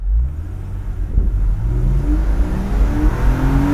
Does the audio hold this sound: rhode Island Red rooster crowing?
no